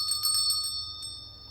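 A bell rung a few times in quick succession, bright metallic strikes with a sustained ringing tone that lingers and slowly fades, close and fairly loud with no talking.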